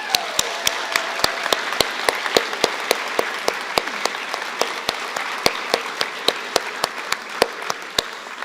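At a PNCA commencement ceremony, the audience applauds the faculty with a steady wash of clapping, and one nearby pair of hands claps loudly in a regular beat through the whole stretch.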